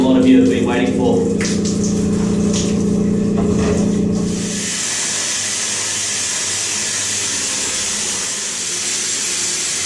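Wet blasting inside the anchor room of a steel boat. A droning machine hum gives way to a steady, loud, broad rushing hiss of water and grit spraying against metal.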